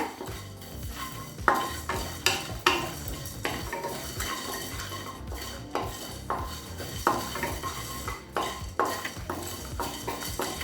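Coriander seeds, fennel, a dried red chilli and curry leaves dry roasting in a pan for an egg pepper fry, with repeated scraping and clinking of a metal spoon against the pan in uneven bursts, close and fairly quiet.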